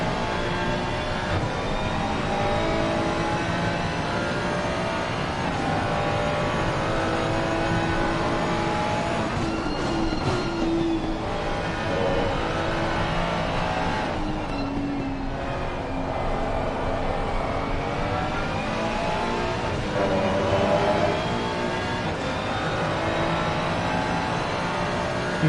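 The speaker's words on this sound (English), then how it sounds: "These cars sound fantastic, they really do." GT race cars lap Suzuka in the racing game Assetto Corsa Competizione, their engines droning continuously and loudly, rising and falling in pitch as they rev and shift, with no talk over them.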